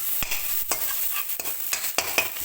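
A pan with very little oil sizzles steadily while a utensil scrapes and stirs the food in sharp intermittent strokes, close and moderately loud, with no talking.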